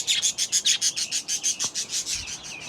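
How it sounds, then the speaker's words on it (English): Two pairs of nesting birds give a quick run of rhythmic, repeated high chirps, close and fairly faint, with a brief rustle partway through. "if you guys haven't seen the birds, these are the birds."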